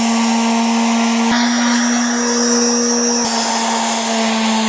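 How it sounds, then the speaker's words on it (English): A steady, loud electric motor whine with a constant hum, shifting slightly in pitch partway through, from an electric sander running continuously on wood. "I do have to sand this wood down."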